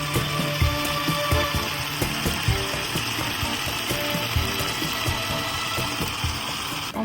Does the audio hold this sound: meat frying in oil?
yes